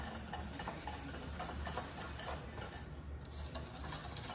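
Sugar and eggs being whisked in a bowl, a steady, faint rhythmic ticking and scraping of the whisk repeating throughout with no talk.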